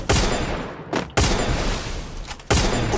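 Video game gunfire crashes out in three loud, close bursts roughly a second apart, each fading into a rumbling tail before the next.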